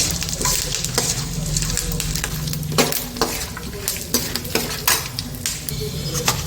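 Curry leaves and chana dal fry crisp in a hot pan for avalakki chooda, a steady close sizzle broken by frequent stirring scrapes and a few sharp spoon clinks against the metal.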